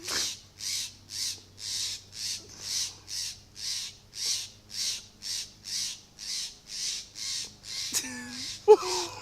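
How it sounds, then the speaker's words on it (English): A mother bird caws over and over after a cat killed her chick, about sixteen evenly spaced harsh calls at moderate distance, followed near the end by brief squawks and a short voice. "that bird is so annoying."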